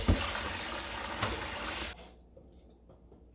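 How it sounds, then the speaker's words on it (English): Hot water runs hard from a kitchen tap for about two seconds as a steady, loud rushing splash, then cuts off, leaving faint kitchen room noise and a small clunk at the end. "I'm going to get hot water from the tap"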